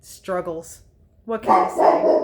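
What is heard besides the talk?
dog barking and growling upstairs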